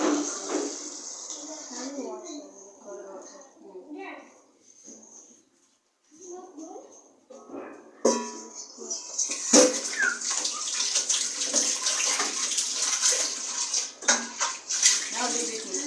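A person speaks first, then cold tap water starts running steadily while cooked spaghetti is rinsed in a home kitchen. The water rushes nearby for the rest of the clip, with faint clinks of dishes.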